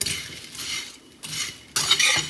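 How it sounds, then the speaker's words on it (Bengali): Puffed rice being dry-roasted and stirred in a pan gives soft, continuous rustling and scraping, with short pauses and a louder burst near the end, no voices. "এখন আমি মুড়ি ভাজা করছি"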